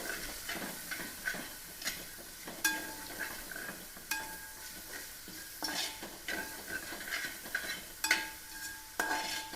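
Sliced onions fry in hot oil for chicken dum biryani, a steady sizzle broken by repeated scraping stirs of a spoon against the pan, close and moderately loud, with no talk.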